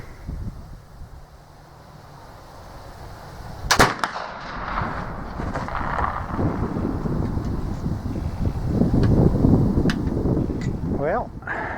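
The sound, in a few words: Euroarms Kentucky flintlock rifle shot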